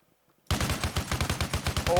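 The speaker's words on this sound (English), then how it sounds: "This is a 50 caliber machine gun." A .50 caliber vehicle-mounted machine gun in Arma Reforger opens up suddenly after near silence, loud and close, with a rapid, steady stream of heavy thudding shots.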